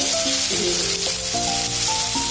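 Chopped bitter gourd and potato fry in hot oil with radhuni seeds, a loud, close, continuous sizzle with light stirring, accompanied by background music.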